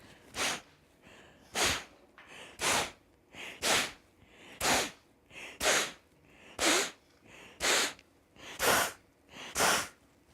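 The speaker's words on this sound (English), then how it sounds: "so let's go for Kapalabhati" Forceful Kapalabhati yoga breaths, about a dozen sharp nasal exhales in a steady rhythm roughly once a second, close and loud, each a short burst of air with quiet pauses between.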